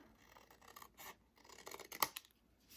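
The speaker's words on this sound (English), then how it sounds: "you're just going to take your scissors and cut that off" Quiet, close scissor snips and rustling as stiff card is cut, in short irregular strokes with one sharper clip near the end.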